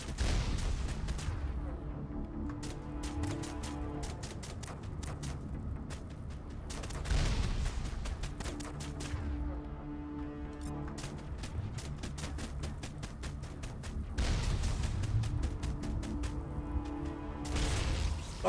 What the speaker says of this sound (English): It was just an explosion.